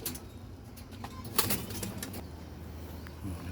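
Racing pigeon released from a loft, quick wing flaps bursting close by over a soft background hum, brief and fairly faint with no talk.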